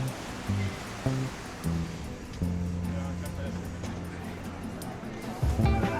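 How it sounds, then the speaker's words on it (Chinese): Sea waves wash against the rocky Cinque Terre coastline near Monterosso, a continuous surf roar under voices talking nearby, with harmonic hums and swells rising in short bursts. "然后听着海浪拍打的声音"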